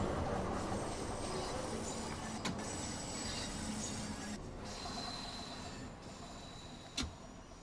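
A London Underground Bakerloo Line train in Train Sim World 2 braking, a steady mechanical rumble and rattle with sharp clicks and clunks at intervals, fading slightly toward the end, without speech.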